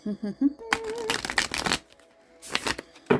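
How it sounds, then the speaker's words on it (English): Bursts of rapid riffling as a deck of cards is shuffled, two separate flurries of crisp flapping, with brief humming and voice fragments between them. "I'm going to give this one more shuffle."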